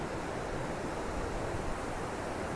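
Ocean waves break at a surf spot in Ventura, a steady, unbroken wash of surf roaring from a distance with no voices over it.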